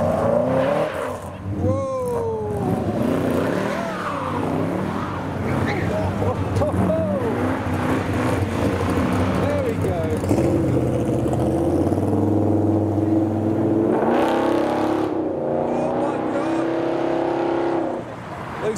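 Cars leave a meet of custom cars, among them an E46 and an R32 GTR, and the engines rev hard and sweep through rising and falling pitches as they accelerate away on cold tyres, with a speaker talking over parts of it.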